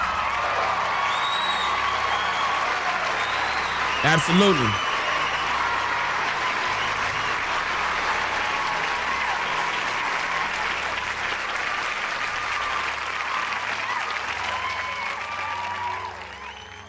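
A crowd gives a long, sustained round of applause, with dense clapping filling the whole stretch, one brief whoop partway through, and a single spoken word before the clapping fades at the end.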